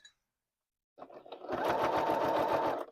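A sewing machine stitches piping onto a stand mixer cover, starting after a second of quiet with a few slow stitches, then running steadily in a fast, close, even rhythm to the end.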